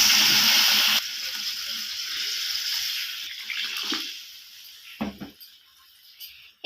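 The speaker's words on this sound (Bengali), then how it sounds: "এরপর জল অ্যাড করে দেবো পরিমাণ মতো।" Water pours into a pan of rohu fish curry with brinjal and potato, a loud rushing gush for about a second that then drops to a softer, steadier bubbling hiss with a few small clinks near the end.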